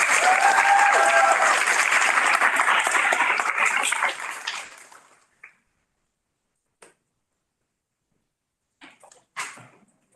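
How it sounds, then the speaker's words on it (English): Graduation commencement crowd applauding, a dense sustained clatter of clapping that fades out over several seconds, followed by a few isolated claps in near silence. "Could we give them a round of applause?"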